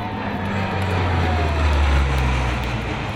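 Fat Albert, a military transport aircraft, in flight: a steady, loud engine and propeller drone with a low hum, heard from inside or close by, continuous with no talk.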